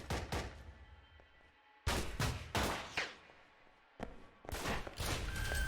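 Gunfire in the spy action game Alpha Protocol: loud bursts of shots in three clusters, with quieter stretches between them and no talk over the shooting.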